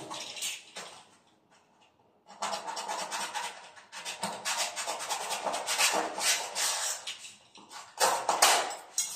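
Decorative polystyrene molding is cut in bursts of close, dry rasping and scraping strokes, a short quiet gap early on, then continuous rhythmic sawing that grows louder toward the end, with no talk.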